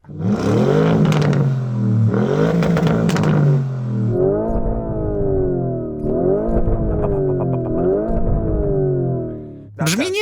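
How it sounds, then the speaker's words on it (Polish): A 4-litre twin-turbo V8 car engine with a modified exhaust revs hard several times, its pitch surging up and falling back in loud, close bursts. "twojego 4-litrowego V8 z podwójnym turbo"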